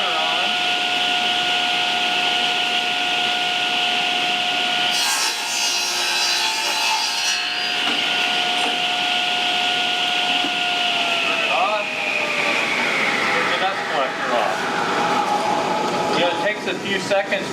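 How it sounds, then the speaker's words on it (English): A woodshop dust collector serving a radial arm saw runs with a loud, continuous whooshing drone and a steady hum. The tone slides lower partway through as the machinery winds down. "I'll turn the dust collector on."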